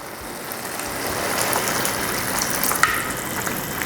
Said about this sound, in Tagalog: Maglalagay lang tayo ng tubig.